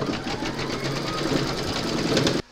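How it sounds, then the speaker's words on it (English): Embroidery machine stitching a free standing lace poppy petal held in its hoop, a fast, even rattling hum of needle strokes that runs steadily and stops abruptly at the end. "load your hoop into your machine, and then you're going to stitch round number two"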